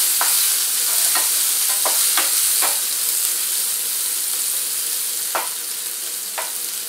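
Onions drop into hot oil for palak paneer and sizzle with a bright, steady hiss, broken by several sharp stirring clicks and scrapes of a spoon against the pan.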